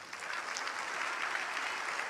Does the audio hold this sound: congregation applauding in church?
yes